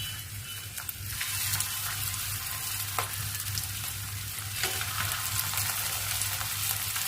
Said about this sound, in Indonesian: Kalau buntutnya itu digoreng itu seperti ini caranya.